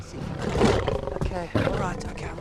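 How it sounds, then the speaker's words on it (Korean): A lion roars loudly in a movie scene, deep rumbling bursts repeating over about two seconds with a brief dip before the second roar, set against a busy film soundtrack. "마티는 곧장 사자무리로 이들을 데려가는데요"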